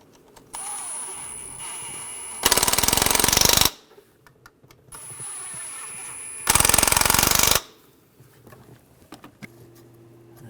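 Power tool tightening bolts on the wiring harness of a 2006-2009 Mercedes-Benz E350 with a 3.5L V6, heard as two loud rattling bursts of about a second each, separated by quieter shop sounds.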